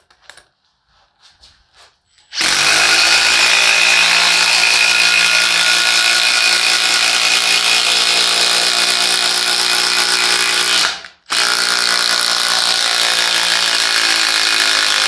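A Makita impact driver drives an extra large T-30 Spax screw, a loud, close, continuous hammering rattle that runs for about nine seconds, stops briefly, then starts again, after a few faint clicks of setup.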